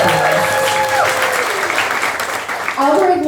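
A lecture audience breaks into loud, sustained applause that fills the room for several seconds, with voices mixed in and tonal music or a sung line briefly audible over the clapping.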